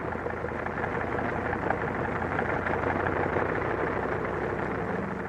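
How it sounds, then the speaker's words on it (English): Military bomber engines warm up before dawn on a 1943 Aleutian Islands airfield flanked by mountains, making a steady, unbroken droning roar that holds at an even level throughout. "The sound of the engines warming up starts before dawn, echoing back from the mountains that flank the field."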